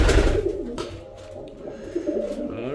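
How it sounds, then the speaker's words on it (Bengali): Giribaz pigeons coo in a loft, soft throaty rolling calls, close and overlapping, with no talk. "এগুলো হচ্ছে গিরিবাজ কবুতর"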